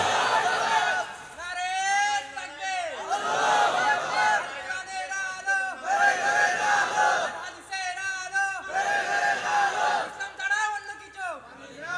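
A large crowd at a religious gathering chants "Allahu Akbar" in loud, repeated swelling bursts answering a takbir call, each roar rising and falling with short gaps between.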